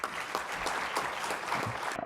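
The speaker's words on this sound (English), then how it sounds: "A big applause to all MTech students, TAs." Audience applause for MTech students and teaching assistants at a computer science workshop's closing session, a steady wash of many hands clapping for about two seconds before cutting off sharply.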